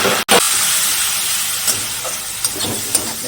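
Spice masala of cumin, turmeric, chilli and coriander powders fries in a pan as a little water goes in, giving a loud continuous steamy hiss with a sharp clank at the start and a few soft stirring knocks.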